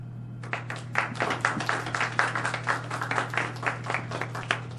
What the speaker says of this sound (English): So please, you can applaud the candidates.